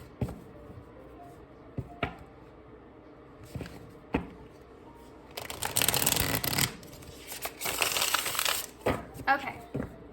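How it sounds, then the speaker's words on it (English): Tarot cards are shuffled in soft riffling bursts and scattered taps, with a longer, denser shuffling stretch midway and quiet pauses between. "Let's do one more quick shuffle"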